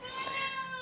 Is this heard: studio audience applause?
no